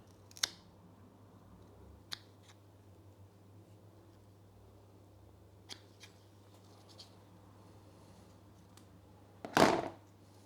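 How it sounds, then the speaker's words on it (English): Scissors snipping mealybug-infested begonia roots, a few sparse, faint clicks spread across a quiet stretch, followed by a louder close rustling burst near the end. "there are mealybugs on these, so let me just cut off these roots."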